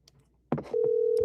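A telephone call placed through Discord sounds on the line, a burst of clicks and tones followed by a steady, loud electronic tone that holds unbroken to the end, with no talking.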